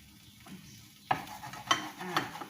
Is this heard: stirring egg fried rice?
yes